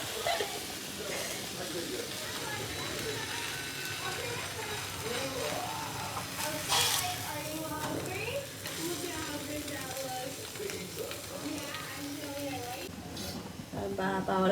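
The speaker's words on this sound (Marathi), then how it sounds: "पावाला दोन्ही साईडून भाजून घेत आहेत" Bread slices toasting on both sides in a pan for masala bread, a continuous soft sizzle and crackle running beneath a person talking throughout.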